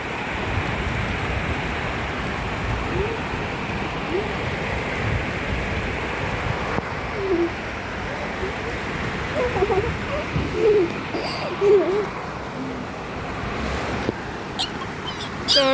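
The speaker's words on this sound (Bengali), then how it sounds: "এই যে এখন বৃষ্টি পড়তেছে আর আমি ভিডিও করতেছি।" Rain falls steadily outdoors as a broad, continuous wash of noise with some wind buffeting the microphone, and a few faint higher sounds drift over it partway through.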